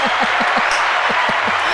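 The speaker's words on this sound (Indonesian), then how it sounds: "Tepuk tangan" Short burst of clapping in a podcast studio, a few people applauding with a sparse, regular rhythm of individual claps, close and moderately loud over a steady noisy background.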